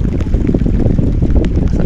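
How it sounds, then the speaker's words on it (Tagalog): Strong wind at sea buffets a fishing boat near a fish corral, a steady loud rush of wind noise with low rumbling gusts filling the whole stretch and no voices. "Kasi yung hangin, malakas yung hangin."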